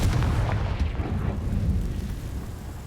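An explosive blasting curse from the Hogwarts Legacy video game, a single loud, low rumbling boom that rolls and decays over a few seconds, heard alone.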